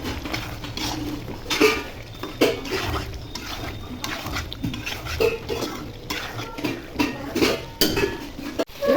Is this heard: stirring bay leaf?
yes